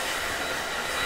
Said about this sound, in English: I have to use the dryer on them every now and then